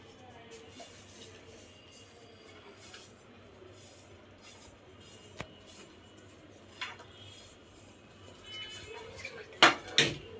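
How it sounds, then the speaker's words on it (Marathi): Tablet powder being stirred into warm hair oil in a bowl, with faint scraping and soft clinks of a utensil against the bowl through a quiet stretch, then a few sharper, louder taps near the end. "मी यामध्ये हेअर ऑइलमध्ये मिक्स करत आहे"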